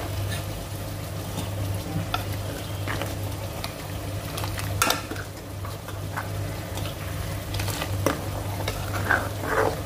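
Falooda mixture being stirred in a pot, a steady scraping and swishing with light sizzle over a constant low hum, near and continuous without speech.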